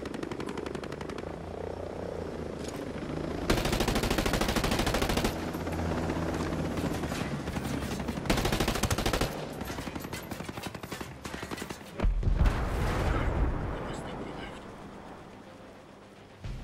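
Sustained automatic gunfire in the Ghost Recon Breakpoint shooter on extreme difficulty, dense bursts and rapid volleys with short gaps, loud and continuous, with a brief heavier blast late on.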